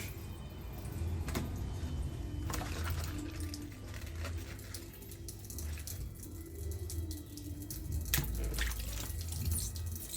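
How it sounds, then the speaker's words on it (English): A kitchen tap runs at a moderate flow, filling or washing in a sink with a steady splashing wash and occasional drips and knocks, close and continuous throughout. "The water is not too fast, but it's still running."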